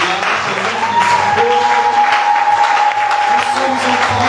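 Church congregation applauding and cheering in praise during a French-language service, with dense, loud clapping that runs throughout and a sustained tone and voices mixed in beneath.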